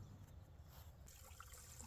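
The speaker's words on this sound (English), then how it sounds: "That's water that's draining from the sprinkler valves I just opened." Water draining from opened fire sprinkler valves down into a drain line in a garage, a faint steady trickle and dribble with a low continuous rumble.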